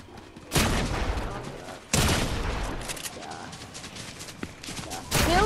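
Bursts of rapid automatic gunfire in a Fortnite-style building shooter game, loud dense volleys arriving in waves with brief gaps, under tense shouting players.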